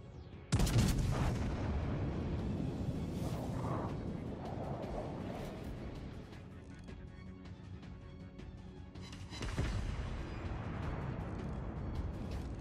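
Naval artillery guns fire in World of Warships Legends, with a sharp heavy boom near the start followed by rumbling, a second broad blast later, under a steady low battle drone.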